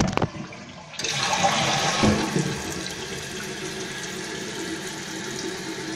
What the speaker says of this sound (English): This is the late 1993 Kohler Wellworth Lite toilet.